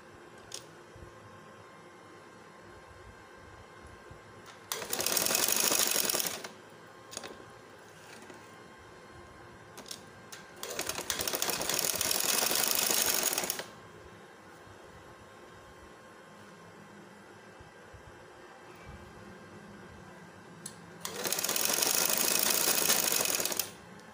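An electric sewing machine stitches the fitting seams of a velvet baby girl's frock, running in three steady, whirring bursts of a few seconds each, separated by quiet pauses.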